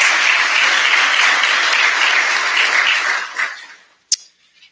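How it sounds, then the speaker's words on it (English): A crowd at a graduation ceremony applauds warmly for a few seconds, the clapping dense and even before quickly fading out, followed by a single sharp tap. "So give them a round of applause,"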